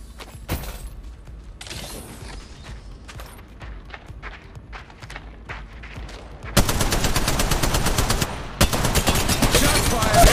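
Weapon fire in the mobile game Apex Legends: scattered mechanical clicks and short bursts give way to loud sustained automatic gunfire that dominates the final seconds.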